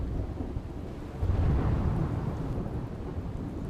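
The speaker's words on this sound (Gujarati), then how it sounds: "અસહ્ય બફારા બાદ રાજકોટમાં ધોધમાર વરસાદ થયો" Heavy rain shower over Rajkot, a steady close downpour with a deep rumble of thunder swelling around the middle and fading again, no voices.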